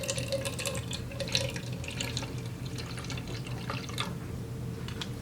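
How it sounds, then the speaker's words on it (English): Cyanotype chemical part A is poured into a measuring cup, a soft, close trickle of liquid running steadily for several seconds with light splashing and dripping, quiet and without talk. "pour in a 1/4 cup."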